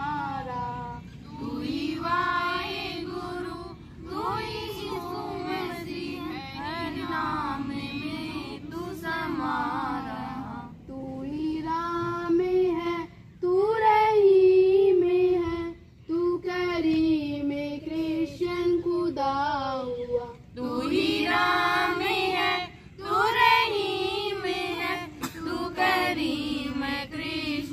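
Children sing an interfaith prayer at a government senior secondary school, a group of young voices carrying a continuous melodic hymn in phrases with short pauses, at moderate volume throughout.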